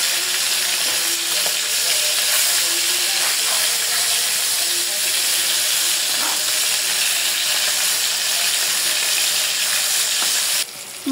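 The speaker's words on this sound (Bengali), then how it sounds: "মাছ ভাজা হয়ে গেছে" Hilsa fish frying in oil gives a loud, continuous sizzle and crackle that lasts the whole time, with occasional stirring sounds.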